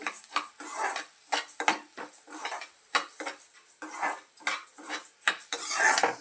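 Coriander seeds are dry-stirred in a pan for a drumstick-leaf spice powder, heard as repeated rhythmic scrapes and clinks of a metal spatula against the pan with little sizzle.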